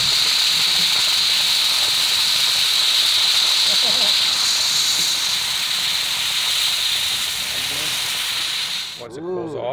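A dry ice blaster cleans a Grand National car, putting out a loud, steady, close hiss that runs without a break, then cuts off abruptly near the end as a voice briefly speaks.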